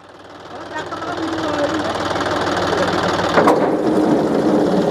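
A John Deere tractor drives a rotary cultivator through hard field soil, its loud, steady engine chugging and rattling as it rises and stays close.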